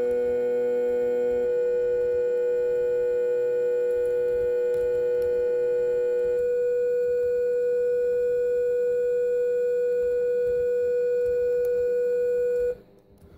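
Several steady pure tones from an SN76489 sound chip in a ColecoVision sound alongside each other, then the channels cut out one at a time, leaving a single sustained tone that stops abruptly near the end.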